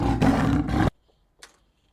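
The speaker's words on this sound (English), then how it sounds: "Leopard." A recorded leopard roar from an animal figurine toy plays as a short, loud, rasping growl of under a second, followed by near silence and a faint click.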